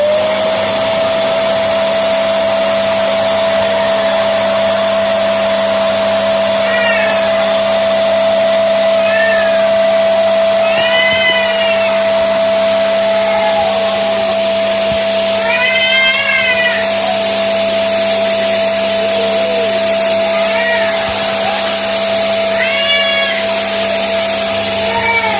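Mini electric balloon pump compressor whining steadily and loudly at close range while inflating a balloon animal, with squeaky rubbery stretching sounds from the balloon scattered over the motor drone.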